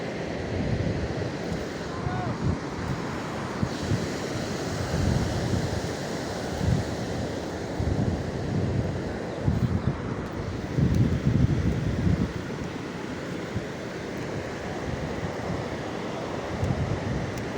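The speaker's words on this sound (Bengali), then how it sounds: "ঢেউগুলো কীভাবে কত দূর থেকে আছড়ে উঠে আসতেছে আবার নেমে যাচ্ছে" Steady roar of surf rolling in and washing back on the shore at Cox's Bazar in the morning, with gusty wind noise over the microphone throughout.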